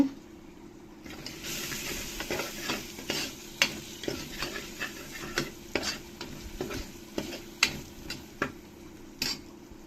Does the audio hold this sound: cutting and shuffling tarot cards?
no